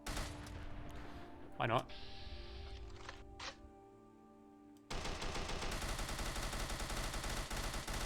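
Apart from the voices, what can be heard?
AK or AR15 gunfire in the video game Fallout 4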